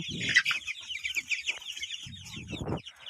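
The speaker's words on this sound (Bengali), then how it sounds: "আমার মুরগিগুলো খুবই সুস্থ আছে" Several chickens cluck and squawk nearby in bursts on a poultry farm, with a steady chorus of softer bird chatter, likely 20-day-old Tiger chicks, continuing in the background.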